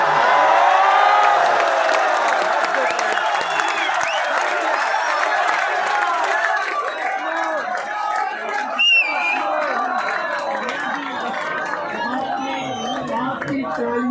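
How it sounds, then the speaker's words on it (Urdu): An audience at a mushaira poetry gathering at Islamia College University, Peshawar, breaks into loud, sustained applause with cheers and chatter, slowly easing over about fourteen seconds. "آپ کی تالیوں سے مجھے سند مل گئی"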